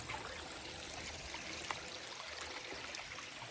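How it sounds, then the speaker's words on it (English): Water trickles over rocks in a small stream, a soft, steady, faint burble with no voices. "Got some running water over here."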